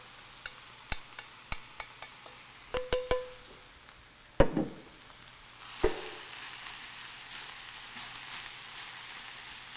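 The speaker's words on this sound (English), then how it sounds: "You'll hear a sizzle." Sautéing vegetables with cooked kasha and bow-tie pasta in a Mauviel pan, a series of sharp clinks and taps giving way to a broad, swelling sizzle.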